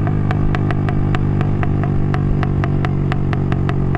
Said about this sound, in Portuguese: o mesmo escapamento tá fazendo dois barulhos, velho